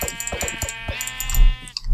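A Minecraft sheep bleats loudly and close in a long wavering cry, with light footstep-like taps underneath and a soft thump at the end.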